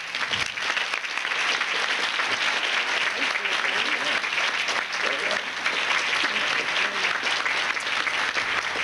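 Sustained, even applause from a large awards-ceremony audience greeting the mistress of ceremonies, steady and fairly loud throughout without a break.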